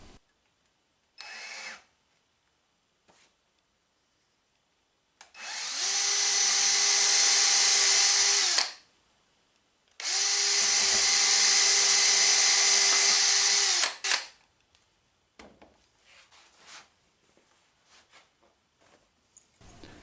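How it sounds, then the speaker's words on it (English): A power drill bores a pilot hole through a wooden water-wheel spoke into a paddle board in two loud, sustained bursts of about three and four seconds, separated by a pause, with a short tool blip before and faint handling noise after. "drill a pilot hole through the spoke and into the paddle board"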